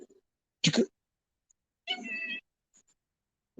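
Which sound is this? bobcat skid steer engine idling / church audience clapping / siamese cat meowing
siamese cat meowing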